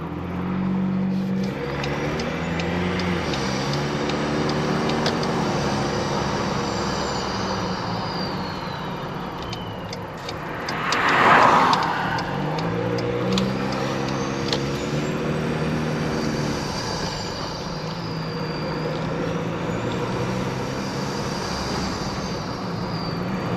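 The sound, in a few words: pickup truck engine running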